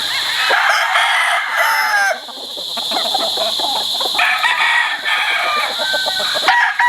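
Gamefowl brood-stock rooster on a farm crowing loudly and close, with clucking and other fowl calling around it, no talk.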